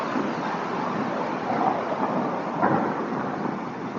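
Heavy rain pours with rumbling thunder during a ride home, a dense steady roar of rain mixed with wind buffeting the microphone and low thunder swelling in a couple of spots, with no talking.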